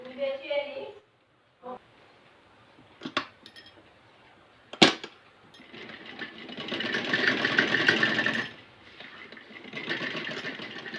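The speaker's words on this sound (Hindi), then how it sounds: "हमें मशीन को बहुत ही आराम से चलाना होगा" An electric sewing machine stitches the neckline of a kurti-style top, a steady whirring run of needle strokes for several seconds, preceded by clicks and a sharp tap, with someone speaking at the start.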